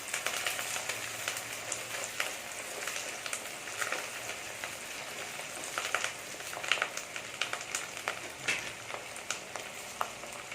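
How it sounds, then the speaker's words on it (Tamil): Onions sauté in a pan for a kodampuli fish curry, giving a faint, steady sizzle dotted with small crackles and pops, with no talking. "வெங்காயம் நல்லா வதங்கிருச்சு"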